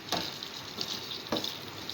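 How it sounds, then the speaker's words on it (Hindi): Chicken karahi masala frying over a high flame, a steady broadband sizzle with a couple of sharper spatters and stirring clatters, close and moderately loud with no talking. "और मैं इसको हाई फ्लेम पर ही भुनाई इसकी शुरू करूँगी।"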